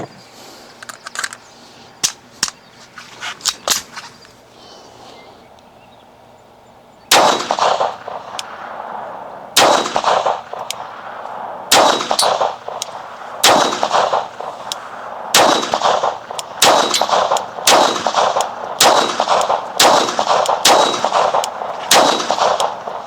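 Handgun shots at an outdoor shooting range, a slow series of loud, sharp reports spaced a second or two apart after a quieter stretch of clicks and handling noises, with no talking.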